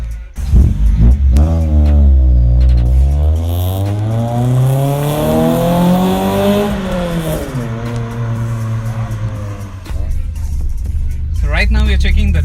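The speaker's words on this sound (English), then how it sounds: "Right now we are checking the drive of the Honda City" A modified Honda City Type 2 accelerates through the gears, its engine and exhaust rising in pitch, dropping on each shift and climbing again, loud and close from inside the car.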